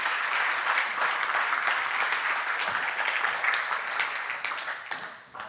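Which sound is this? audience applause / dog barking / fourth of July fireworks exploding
audience applause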